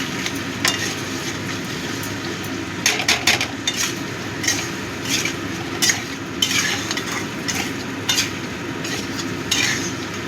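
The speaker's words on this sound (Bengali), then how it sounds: "আদা জিরে বাটাটা দিয়েও ভালো করে মিশিয়ে দিচ্ছি।" Ginger-cumin paste is stirred into potato and cauliflower curry frying in a pan, with repeated metal spoon scrapes and clinks over a low steady sizzle, close and fairly loud, with no voices.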